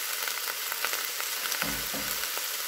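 Pieces of veal osso buco sear in a hot pan, giving a steady, close sizzle with faint crackles throughout and no talking.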